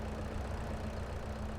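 Tractor engine idling in Farming Simulator 22, a steady low rumble with an even, throbbing hum that holds constant throughout, no voices.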